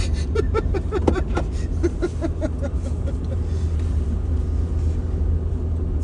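Truck driving on an icy road during an ice storm, a steady loud rumble of engine and road noise with a clicking, crunching pattern early on and faint talk beneath.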